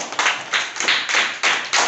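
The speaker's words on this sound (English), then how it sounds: "claps for Tejasri" A classroom of children clapping for a classmate, a short burst of quick, close, uneven handclaps with no voices over it.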